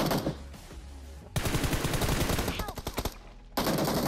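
Bursts of rapid automatic fire from an M416 rifle in PUBG rattle out in two long sprays separated by a short pause, loud and close, with a brief bit of background game noise between.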